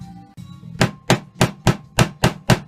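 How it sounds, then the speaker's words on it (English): A hammer strikes a steel punch to cut a hole in a gasket, six sharp, loud, evenly spaced metallic blows close by, with no talking. "smack the punch with a hammer."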